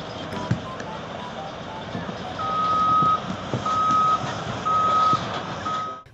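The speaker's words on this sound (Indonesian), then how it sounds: "Di sini ada mobil truk tambang." Reversing beeps from a toy mining truck, a steady series of electronic tones repeating at a regular pace over a noisy, rumbling background, with mid-level loudness throughout.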